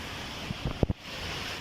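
Very heavy rain beats down on a dangerous road as a dense, continuous hiss. A few brief thumps cut through it in the middle, and no one speaks.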